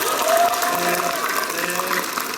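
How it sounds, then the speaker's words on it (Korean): Audience at a Korean district party talk show event applauding loudly and steadily, a dense wash of clapping with some crowd noise throughout. "우리 5동 신도림 박수를 크게 치시는군요"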